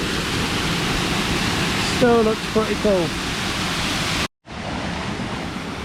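Aira Force waterfall in the Lake District running with fairly low water, a steady broadband rushing roar that fills the scene, with someone speaking briefly over it and a short cut near the end.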